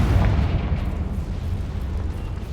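Hogwarts Legacy Confringo spell explosion, a loud deep boom with a rumbling tail that rolls on steadily for a couple of seconds, heavy in the low end, with no talking.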